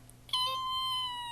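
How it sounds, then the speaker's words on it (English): A single short, high-pitched cat meow, sustained and slightly plaintive, close by after a moment of near silence. "There's a cat that I know that does that. When you see her, if you go meow at her,"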